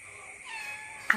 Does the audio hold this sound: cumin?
no